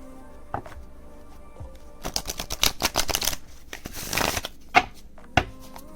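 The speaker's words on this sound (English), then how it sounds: "Overhand shuffle." A mass-market tarot deck of fairly thin cards, about 23 years old, being shuffled overhand: several quick bursts of riffling card slaps with pauses between, close and clear with no talking.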